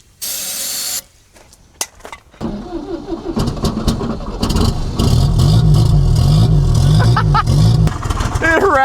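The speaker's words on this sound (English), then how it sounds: "That whole exhaust pipe is going duk, duk, duk, duk, duk." A junkyard-turbocharged 1969 MGB engine cranks and fires, then runs loudly with a rattling exhaust pipe and some revving. People talk over it.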